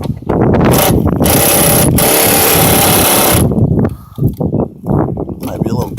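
A worn, older battery-powered ratchet with an 8mm socket drives an engine-bay mounting bolt on a Mustang GT during a cold air intake install, whirring loudly and steadily for about three seconds before stopping.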